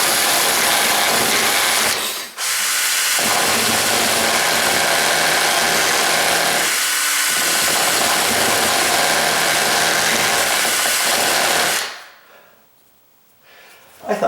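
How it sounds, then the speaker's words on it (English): A power tool grinds away burrs on a drilled metal door strike plate, running loud and steady for about twelve seconds with two brief dips before it winds down. "So now I got to clean up those burrs"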